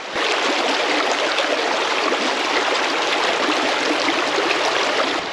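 A springtime stream in the Alaska backcountry rushes steadily, a close, loud, continuous wash of flowing water with no voices over it.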